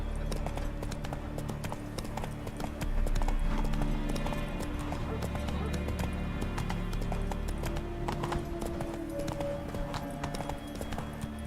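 Roach, a horse in The Witcher 3 video game, galloping with rapid, continuous hoof clip-clops over a steady background rumble, sustained and fairly loud.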